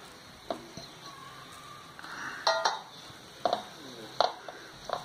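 Baking powder and wheat flour are mixed in a bowl with quiet scraping and intermittent light clinks of a utensil against the bowl, soft and close.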